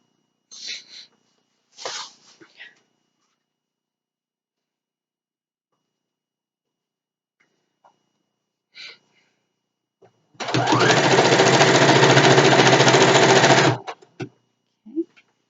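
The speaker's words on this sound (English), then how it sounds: "Let's sew again." A sewing machine runs in one steady burst of about three seconds, stitching a satin pillowcase, loud and close. Brief soft voice sounds and fabric handling come before and after it.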